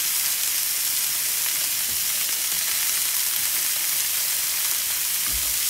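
Steak frying hard in a very hot pan with butter added at the sides, a steady close dense sizzle with an occasional louder spit, no talk.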